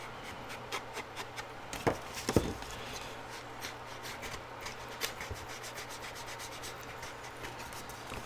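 An ink pad rubs around the edges of scrapbook paper in soft, close brushing strokes with a few light taps; quiet, with no voices.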